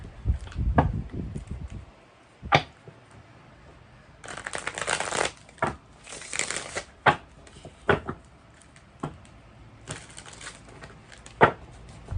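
Tarot cards are shuffled in several quick riffling bursts, separated by sharp taps and card snaps on a surface, close and clear with no voices.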